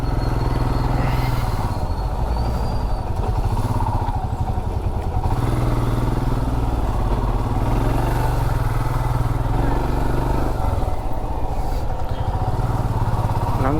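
A motorcycle rides through packed holiday-weekend traffic on a ghat section road, its engine loud, close and steady the whole time, with a voice talking over it.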